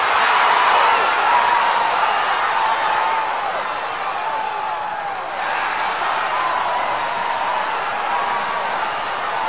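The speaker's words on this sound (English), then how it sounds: "Oh yeah, this is a great opening day crowd." A large stadium crowd in the Cars Mater-National racing video game cheers and roars steadily, a dense wash of voices that dips briefly midway and then swells again, with no talk over it.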